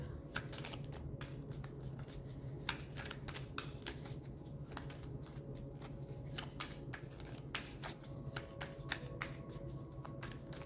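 Tarot cards being shuffled and drawn by hand, a steady run of quick crisp riffling flicks and slaps, close and fairly soft, continuing throughout without talk.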